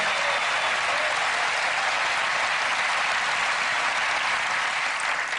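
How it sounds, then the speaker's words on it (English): A studio audience at a televised magic show applauds steadily, a dense wash of clapping that holds at an even volume throughout. "A round of applause as she retakes her seat."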